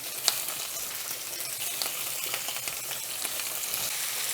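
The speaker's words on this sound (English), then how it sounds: "we're going to sear the shrimp for just about a minute on each side" Shrimp searing in olive oil in a hot skillet give a steady, close crackling sizzle with scattered sharper pops, continuing evenly throughout with no talking.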